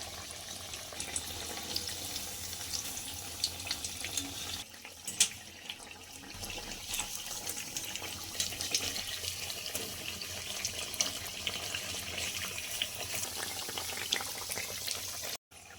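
Three potato chops frying in hot oil give a dense, steady crackling sizzle that runs without a break from start to finish, close up and fairly loud, with no voices.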